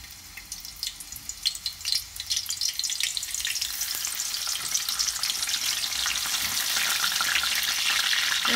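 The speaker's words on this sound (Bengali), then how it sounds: "আর গরম হওয়ার পরে রসুন দিলাম।" Garlic hits hot oil in a pan and sizzles loudly and close, the hiss building and growing denser over several seconds with scattered pops and crackles, no talk.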